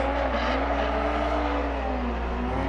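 A drift car engine revs hard and steadily at a drift competition at Orange Show Speedway, a loud sustained droning growl with shifting pitch, close and continuous.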